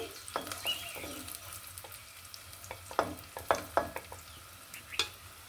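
Chopped garlic and onion frying in a pan, a soft sizzle under a series of sharp scraping stirs and clinks that grow more frequent toward the end, with no speech.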